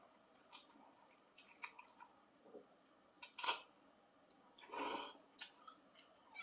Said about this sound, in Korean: 한 입 먹어볼게요